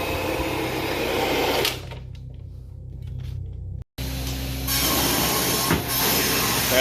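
A carpet cleaning machine rinses and extracts heavily soiled, worn carpet, a loud steady suction roar that drops to a quieter hum, cuts out briefly, then surges back at full strength.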